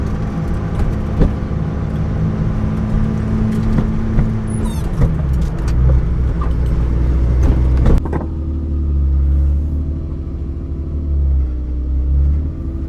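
A Datsun car cruising through dark streets, a continuous low engine rumble that shifts and deepens partway through, with no talk.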